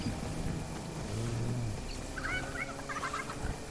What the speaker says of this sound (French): Ah, ils ont écrasé le... un petit poulet.